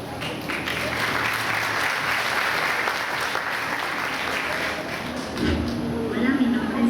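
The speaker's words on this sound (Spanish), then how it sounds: "vamos con un aplauso para ver el video de María Guadalupe." An audience claps together at a church testimony gathering, steady broad applause that carries on evenly and then gives way to other sounds near the end.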